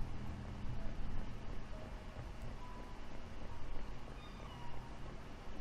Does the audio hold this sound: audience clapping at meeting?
no